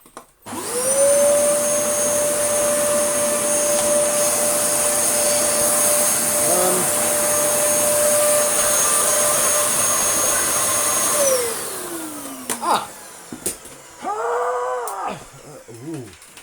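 A Dyson DC07 upright cyclone vacuum cleaner runs with a loud, steady whine and roar, then winds down, leaving brief clatter and a faint voice.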